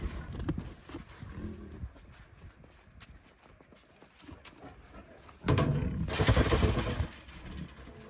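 Tigers in the rain give low, rough growling calls, with a louder burst of roaring and noise near the end of the stretch over steady background rumble, without speech.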